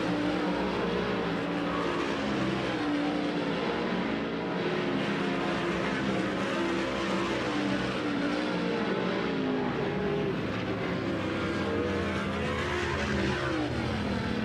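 Dirt race cars run the final lap of a hot-lap session at Texas Motor Speedway, a dense, steady roar of engines at full throttle that continues loud and unbroken throughout.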